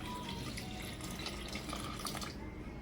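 Water is poured onto a tulsi plant outdoors, making a soft, faint steady trickle and splash over a few seconds with no voices.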